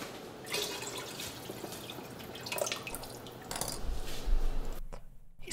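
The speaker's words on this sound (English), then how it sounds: "He's putting a lot of water." Water pours in the Cooking Mama video game as a cartoon sound effect, a steady trickling splash that swells toward the end before cutting off abruptly.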